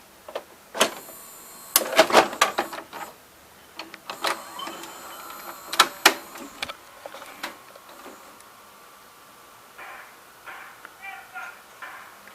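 A Symphonic SL2940 VCR takes in a tape with a series of mechanical clicks, clunks and whirring motor sounds at close range, followed by softer ticking as the mechanism settles.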